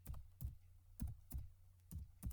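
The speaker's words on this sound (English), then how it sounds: "Then here we are going to type expenses. Expenses. Let us type in uppercase" Typing on a computer keyboard, with six distinct keystrokes landing in a loose rhythm, close and fairly quiet, and no voices.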